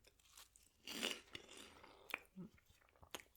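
Crunchy snacks being chewed in a quiet whisper-style setting, with soft crisp crunches and bites coming in irregular bursts, close and faint, with no talk over them.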